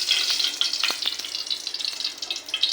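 Soybean oil heating in a hot wok (kadai) before pickle-making: a steady, close crackling sizzle with a few small pops, and no voice over it.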